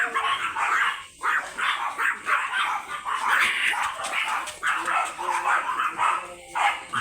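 Several Nano Bully dogs at a stud kennel bark repeatedly in quick overlapping bursts, close and loud, with a few higher yips and whimpers mixed in.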